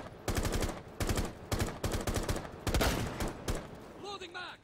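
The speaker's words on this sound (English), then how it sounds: "I shoot her again, she's not dead." Rapid bursts of gunfire from the Rainbow Six Siege tactical shooter, several loud close volleys in quick succession, with a brief high electronic tone near the end.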